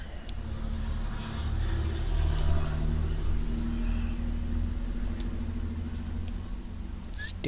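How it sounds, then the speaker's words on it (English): Trucks rumbling past outside, a continuous low engine drone that swells and fades slightly as they go by, heard at a distance with no voices. "Stupid trucks."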